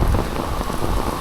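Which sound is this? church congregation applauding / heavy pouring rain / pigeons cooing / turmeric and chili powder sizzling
heavy pouring rain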